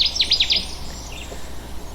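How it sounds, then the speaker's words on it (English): Connecticut warbler calling in the wild, a quick run of bright, high chirped notes at the start followed by fainter scattered chips over a soft background hiss. "We've got at least 2 Connecticut warblers."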